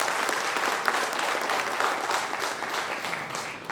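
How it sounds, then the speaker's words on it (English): An audience at an HR conference applauds, a loud, close, continuous patter of many hands clapping that stays fairly even throughout and tapers slightly at the end. "please clap for yourself"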